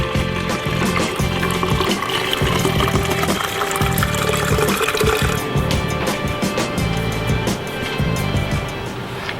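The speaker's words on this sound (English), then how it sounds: "I'm just going to strain this here to keep the apple chunks out of my vinegar" Homemade apple cider vinegar pours steadily through a strainer that catches the apple chunks, a continuous close splashing and trickling of liquid filling a container, with no talk.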